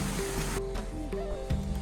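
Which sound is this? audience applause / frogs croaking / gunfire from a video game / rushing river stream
rushing river stream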